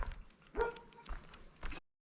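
Faint dogs bark far off in the Drôme countryside, a few scattered yaps and whimpers spread over a couple of seconds at low level before falling silent.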